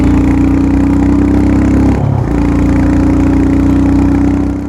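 Motorcycle engine on a ride toward India's first village, a loud, steady drone that dips briefly as a gear is shifted, then picks back up as the bike accelerates.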